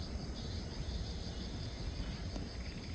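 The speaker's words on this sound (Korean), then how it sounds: "숲속에서는 매미들이 마지막 여름의 끝자락을 붙잡고 열심히 소리를 하고 있습니다." Cicadas in a forest on a late-summer September morning drone in a steady, high-pitched continuous buzz at moderate volume without pauses or voices.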